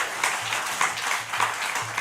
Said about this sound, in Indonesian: saya minta tolong tepuk tangan untuk seluruh Eselon 1 Kementan